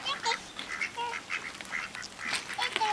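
Ducks at a lake quack in quick overlapping bursts while being fed, a busy, close chorus of nasal calls over outdoor background noise.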